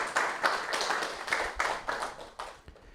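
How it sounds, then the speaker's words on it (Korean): An audience at an indoor church health evangelism meeting claps warmly, a steady patter of many hands close by that gradually fades toward the end. "뜨겁게 박수하시겠습니다"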